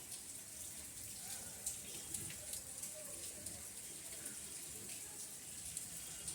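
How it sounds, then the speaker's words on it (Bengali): Steady rain falling outdoors on a May morning as a faint, continuous hiss with scattered soft drips, heard at low level throughout. "বৃষ্টি পড়েছে পড়ছে এখনও"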